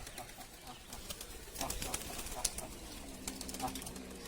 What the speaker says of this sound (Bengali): বন্ধুরা কবুতরটা উড়ে এই চলে যাচ্ছে